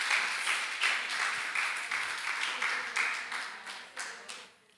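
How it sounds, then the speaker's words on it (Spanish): A church congregation claps in a steady, roomy burst of applause lasting several seconds, then fades out near the end. "Dale un aplauso al Espíritu Santo."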